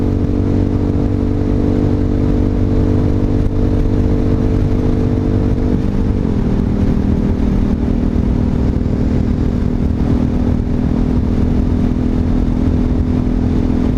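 Honda Hawk 250 motorcycle engine running with its exhaust baffle removed, a loud, throaty, steady drone that holds for the whole stretch with a slight pitch drop midway.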